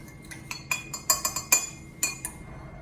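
A metal spoon stirs squash casserole ingredients in a dish, giving a quick irregular series of bright clinks and scrapes against the bowl, close and crisp, with no voices.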